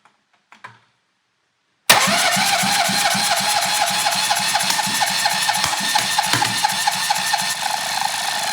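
A tiny rebuilt engine, once seized, cranks and catches abruptly, then runs loud and close with a rapid, steady chugging beat for several seconds, preceded by a few faint handling clicks.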